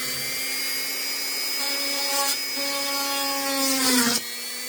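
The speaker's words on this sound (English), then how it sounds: "we're just going to drill a hole completely through this stem" A small high-pitched rotary tool whines steadily, its pitch dipping as it drills through a wooden stem, with a brief scraping burst near the end.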